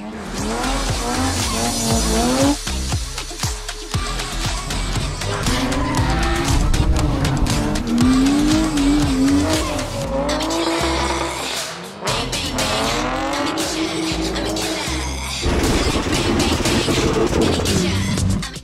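Drift cars, a Pro 2 Camaro against a street car, screech their tires in long squeals over loud revving engines at a drift event, with engine pitch rising and falling through the slides.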